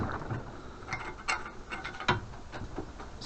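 A pipe vise being screwed down to squeeze a metal part back into shape, giving close, irregular mechanical clicks and ratcheting creaks with a few sharper knocks over low shop noise.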